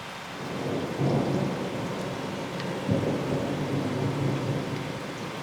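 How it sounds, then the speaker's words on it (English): Thunder from a close lightning strike during a thunderstorm in southeastern Pennsylvania, a loud crack and rumble rolling over steady heavy rain. "that lightning strike was like just down the road there."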